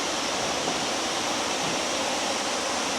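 Kuang Si waterfall in Laos pouring steadily, a loud, continuous broadband rush of falling water with no pauses, filling the scene up close and alone without voices.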